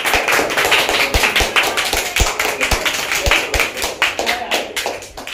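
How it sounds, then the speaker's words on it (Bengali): A small group claps together at a home birthday celebration while cake is fed to the birthday boy. A steady run of close, fairly loud claps comes with voices mixed in. "সবাই মিলে হাততালি দিচ্ছে।"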